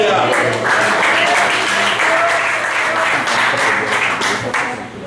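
A church congregation claps hands together in sustained, dense applause praising God, loud and steady throughout, with murmuring voices underneath.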